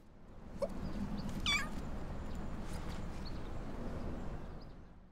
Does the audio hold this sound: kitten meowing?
yes